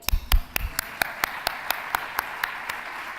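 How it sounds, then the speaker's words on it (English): Scattered clapping at a startup awards ceremony, a few loud close claps at first, then a slow, regular run of single claps that gradually fades, with no talking. "This applause is for all of you because you are great."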